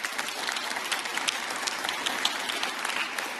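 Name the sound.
audience applause at a jazz festival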